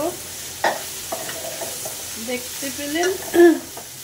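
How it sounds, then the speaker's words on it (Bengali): Bitter gourd frying in a pan is stirred, with irregular scraping strokes over a soft sizzle that build to a louder clatter near the end. "আমি এখন করলা ভাজিটা একটু নেড়ে দেব।"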